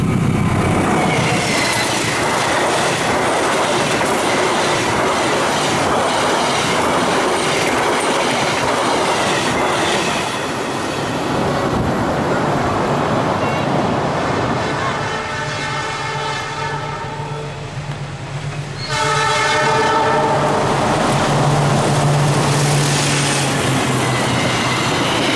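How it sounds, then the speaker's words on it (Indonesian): Sri Tanjung and Ranggajati passenger trains passing each other near Sumobito station, a loud continuous rumble and rhythmic clatter of wheels close by, briefly easing before a second roaring pass with metallic tones. "Tampak kereta api Sri Tanjung dari Surabaya bersilang dengan Ranggajati dari Cirebon."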